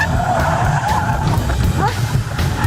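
A Skoda Octavia weaves in a zigzag on a test drive, its tires skidding and squealing over a loud, steady engine and road roar, heard from inside the car.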